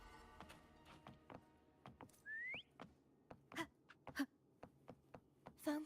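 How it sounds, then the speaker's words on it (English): Short rising whistle in the game Wuthering Waves, heard once and fairly clearly among a series of soft thuds and clip-clopping steps. "Try whistling."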